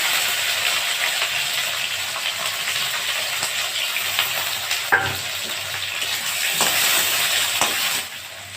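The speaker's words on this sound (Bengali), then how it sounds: "তেল দিয়ে দেবো, একবারে ফোড়ন দিয়ে বসিয়ে দেব। তেজপাতা, শুকনো লঙ্কা ফোড়ন দিলাম" Bay leaves and dried red chilies sizzling in hot oil for a Bengali tengra fish curry tempering, a steady close frying hiss with occasional crackles and a brief utensil knock.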